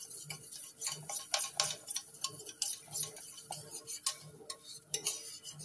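A wire whisk beats cream as it thickens in a pan, giving quick, steady metallic ticks against the pan in an even rhythm, fairly faint and with no talking.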